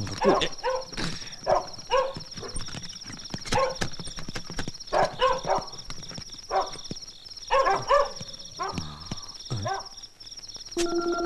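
Several dogs bark in short, irregular bursts spread across the scene, each volley fairly close and loud, with a steady high insect-like hum running underneath and occasional clopping or knocking sounds mixed in.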